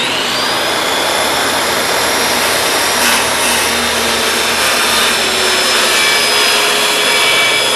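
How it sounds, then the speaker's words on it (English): A saw cuts through a piece of wood at a sanding station, making a loud, steady, whining roar that runs unbroken from start to finish, with no talking. "Sawing it."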